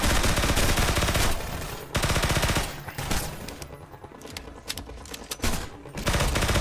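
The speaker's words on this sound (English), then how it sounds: "God damn, those turrets need to shut up." Turret gunfire in a Half-Life mod game, loud rapid automatic bursts in repeated volleys with brief pauses between them, sharp and close.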